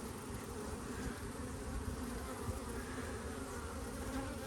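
Honey bees swarm over an opened hive frame of honey and nectar in an apiary, a dense, steady buzzing hum close up and continuous, with no voices.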